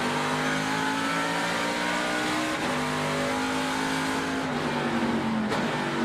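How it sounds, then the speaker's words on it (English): NASCAR Truck Series race trucks, including a Hellmark Toyota, roar around a track with a tight carousel corner, engines droning loudly and continuously with shifting pitch as they brake and get back on the throttle, no talk over them. "Listen how long they're off the throttle there in that really tight carousel corner"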